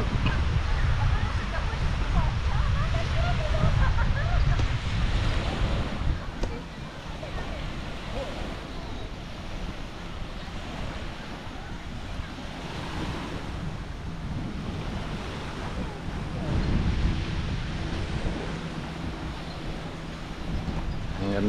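Surf rolls steadily onto Dulho Beach in Panglao, Bohol, a continuous wash of breaking waves with heavy wind buffeting the microphone and voices talking now and then.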